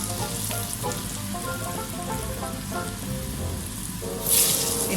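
Tempeh frying in hot oil, a dense steady sizzle and crackle heard close up, loud and continuous, with a sharper hiss burst near the end and no talking.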